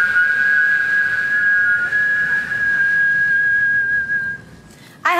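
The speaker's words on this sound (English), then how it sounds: "A good old-fashioned whistling contest." People whistle a single sustained note in a contest to hold it longest, steady for several seconds, fairly loud and close, cutting off abruptly near the end.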